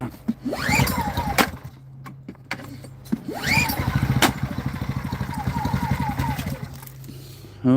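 An Agen1600c portable generator is pull-started: two rope pulls give rising whirs and rapid sputtering engine cranking that dies out, close and fairly loud.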